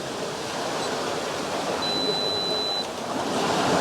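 A waterfall with frothy rushing water roars steadily in a landscape setting, a loud continuous broadband wash with a thin high tone briefly running over it.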